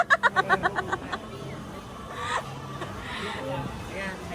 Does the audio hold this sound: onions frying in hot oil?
no